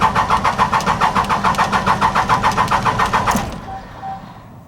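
A 4BT Cummins turbo diesel engine cranks over on the starter in a fast, even rhythm of about fifteen loud chugs, then cuts off into quiet with a faint tone or two.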